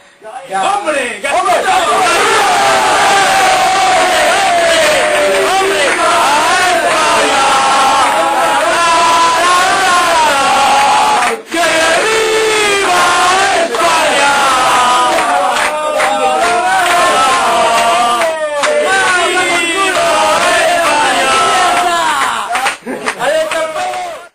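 A crowd at a jersey presentation ceremony applauds and cheers loudly and continuously, dense clapping mixed with shouts and raised voices throughout.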